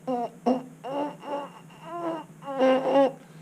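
Too-tight lip buzz into a baritone horn mouthpiece, blown with too little air: a series of short, pinched, wavering buzzes in quick uneven bursts, fairly close and moderately loud, with no talking.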